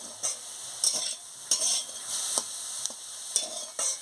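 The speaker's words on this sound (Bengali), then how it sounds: "দিয়ে ভালো করে নাড়িয়ে নিচ্ছি" Spatula stirring banana stem stir-fry in a pan as the water cooks off, with repeated scraping strokes in an irregular rhythm over a steady, close sizzle.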